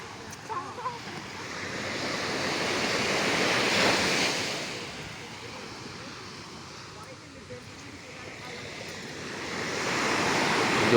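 Waves on a fairly calm sea wash in and recede in slow, broad swells, rising and fading with wind noise against the microphone and brief voices early on.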